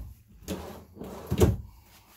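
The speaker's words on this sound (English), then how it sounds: "You have two slide-out drawers." Slide-out cabinet drawers in a Coachmen Apex Ultra Lite 289TBSS travel trailer open and shut, a few soft muffled slides and a thump at close range in a quiet interior.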